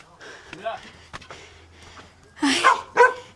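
A dog barks a few times at close range in a highland area of Benguet, the sharp barks coming in a short burst near the end, with people talking quietly before it.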